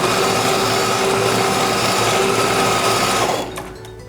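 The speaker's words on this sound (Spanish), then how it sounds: "Ahí cosemos." A sewing machine stitches the flaps of a reusable cloth diaper, a loud close whirring buzz that runs steadily and then slows and stops near the end, with no talking.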